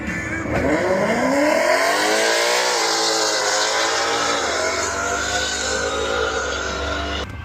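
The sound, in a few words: Ford Mustangs racing at Bradenton Motorsports Park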